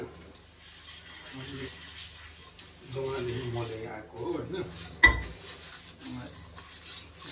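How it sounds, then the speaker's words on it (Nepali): Dishes are scrubbed and washed by hand, with scraping, rubbing and clinks of pots and utensils, plus a sharp clatter midway, while people talk over it. "मेरो बुढाले चाहिँ पुरा भाँडा माज्दै हुन्छ"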